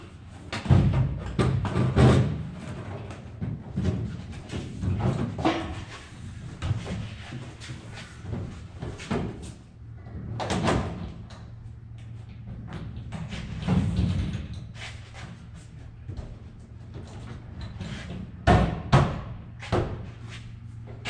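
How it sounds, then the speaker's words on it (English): Trial fitting of a tank bay door onto an aircraft wing centre section, with scattered knocks, thumps and scraping handling sounds over about twenty seconds, irregular and close, against a low steady hum. "A trial installation of the tank bay door for Kermit's wing centre section."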